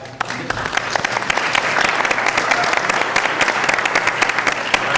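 An audience at a school board meeting applauds the orchestra and its director, loud sustained clapping from a crowded room with sharp individual claps standing out near the front.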